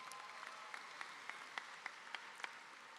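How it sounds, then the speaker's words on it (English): Faint, distant applause from the crowd at a high school graduation ceremony, a steady wash of clapping with a few sharper individual claps standing out throughout. "Give them a round of applause"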